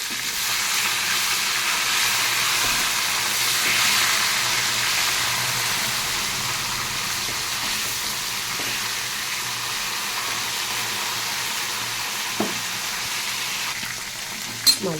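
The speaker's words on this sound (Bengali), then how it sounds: "মাছগুলো আমি এক এক করে উল্টে দিচ্ছি" Flipped pieces of fish keep frying in hot oil in a wok, a steady, fairly soft sizzle and bubble that carries on evenly, with a couple of small clicks near the end.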